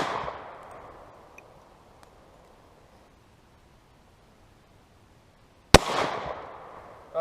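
Gunshots fired at a Swiss M1971 steel army helmet outdoors, one sharp loud crack at distance with a decaying tail, following a fading earlier report.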